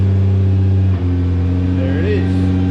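A Nissan GTR engine idles after a remote start, a loud steady low rumble that runs throughout with only slight shifts in tone.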